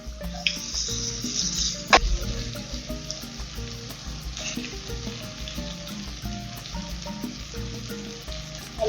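Vegetables sizzling and frying in a pan for Nigerian vegetable fried rice, a steady crackle with occasional stirring scrapes and clinks of a utensil, close and moderately loud, no talking.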